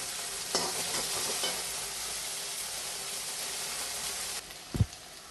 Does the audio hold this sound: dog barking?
no